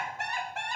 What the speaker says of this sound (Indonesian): Itu ayam lagi ngeronda.